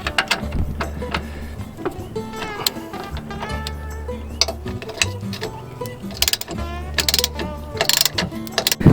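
A torque wrench tightens trailer suspension nuts during a MORryde CRE3000 equalizer install, making a dense run of close ratcheting clicks and metallic ticks over a low mechanical rumble.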